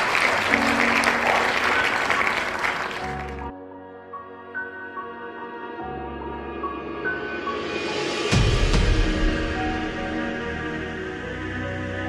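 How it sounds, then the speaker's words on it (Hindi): An event audience in an Indian village short film applauds as officials arrive, loud at first, then giving way to quieter music, with the clapping swelling again later. "तालियां।"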